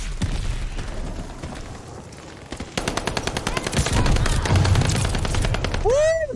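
Rapid bursts of automatic fire from the H4 Blixen submachine gun in the video game Call of Duty: Vanguard crackle loud and close, intensifying after a brief lull and ending with a sweeping whoosh.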